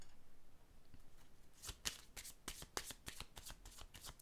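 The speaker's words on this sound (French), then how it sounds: "Je vais déposer une autre carte." Tarot cards handled and laid down during a reading, heard as a quiet run of close, crisp card slaps and shuffling rustles.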